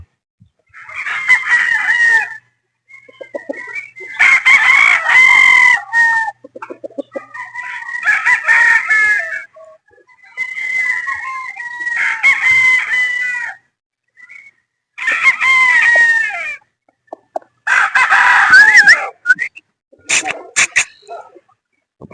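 Sweater gamefowl roosters crow repeatedly, loud and close, with about seven drawn-out calls in an irregular rhythm and short quiet gaps between them.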